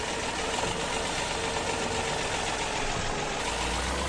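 A tractor engine idles steadily in the Farming Simulator 2017 video game, a constant loud mechanical drone with no pauses and no talk over it.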